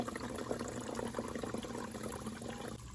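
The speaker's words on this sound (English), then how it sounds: "Okay, I filled the first bottle." Stream water pours steadily into a CNOC Vecto soft water container, a quiet continuous gurgling fill that runs unbroken for a few seconds.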